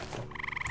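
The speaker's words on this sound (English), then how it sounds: "Oh, I knew it, you stupid frog!" A frog creature in a modded video game gives a rapid, evenly pulsed croak, the repeated throaty bursts rising out of busy game background noise.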